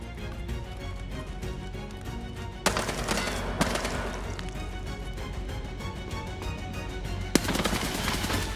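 Bursts of automatic gunfire from a scav in Escape from Tarkov, dense continuous rattling with sharper louder shots standing out, close and loud with no talk.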